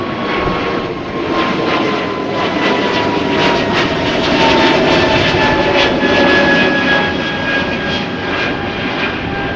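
A jet airplane departs a runway at Amsterdam Schiphol Airport in strong westerly wind, a loud sustained engine roar that swells and holds steadily with no talk.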